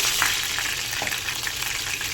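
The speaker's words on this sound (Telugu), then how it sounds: "పల్లీలు కొద్దిగా ఫ్రై అయిన తర్వాత తాలింపు గింజలు" Seasoning seeds and peanuts sizzling in hot oil in a pan for a tamarind pulihora tempering, a loud continuous close-up fizz with small pops throughout, no voices.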